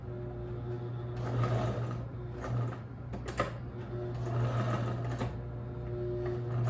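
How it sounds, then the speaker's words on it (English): A sewing machine stitches a homemade fabric face mask, a steady close mechanical hum and rapid needle chatter that swells and eases as the fabric is guided. "now we're going to sew it, stitch it together"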